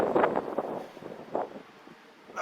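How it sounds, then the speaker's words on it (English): Strong gusts of wind buffet the microphone outdoors at the ruins of Croxden Abbey on a very windy day, producing uneven bursts of rushing noise. "Very windy."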